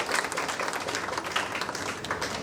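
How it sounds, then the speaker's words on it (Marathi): An award ceremony audience claps together in a steady, dense patter at moderate distance, the applause continuing evenly throughout without a clear start or finish. "आपण सगळ्यांनी टाळ्या वाजवून त्यांचं अभिनंदन करावं."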